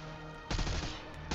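A loud video game gunshot lands sharply over a low droning background, followed by a second burst near the end, both close and punchy.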